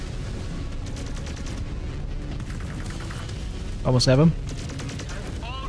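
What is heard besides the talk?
gunfire from AI mechs in a mech video game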